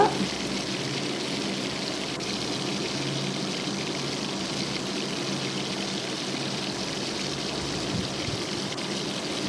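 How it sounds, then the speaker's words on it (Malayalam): Sliced onions with a pinch of turmeric sauté in a pan for a Kerala-style duck curry, giving a steady, even sizzle and hiss throughout at moderate level. "ഒരു പിഞ്ച് മഞ്ഞൾപ്പൊടി ഇടുന്നുണ്ട് അത് വിട്ട് നന്നായിട്ട് ഇളക്കി വഴറ്റി കൊടുക്കുക"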